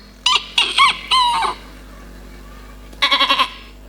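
A voice imitates a goat, letting out a quick run of wavering, nasal bleats, then a pause, then another burst of bleats. It is close and fairly loud against a quiet background.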